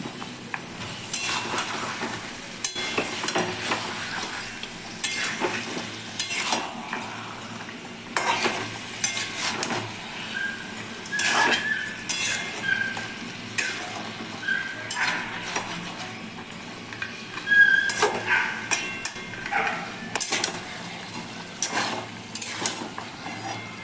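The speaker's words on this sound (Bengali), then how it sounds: "এবার আমি কাঁচা পেঁয়াজ, কাঁচা টমেটো দিয়ে দিলাম। এবার ভালো করে এগুলোকে নাড়িচাড়ি নেব।" Raw onions and tomatoes sizzle in a pan with a little oil while being stirred for a Bengali goat-meat curry; a spoon scrapes and clinks in repeated strokes over a steady, close frying hiss.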